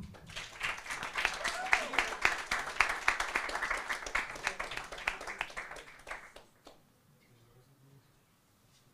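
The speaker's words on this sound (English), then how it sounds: "Please give one more round of applause to Jora." An audience at the AntiBabylon 2022 event in Ukraine claps and applauds for performer Jora, a dense burst of clapping that gradually thins and fades out into near silence at the end.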